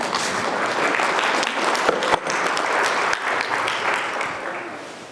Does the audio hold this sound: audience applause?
yes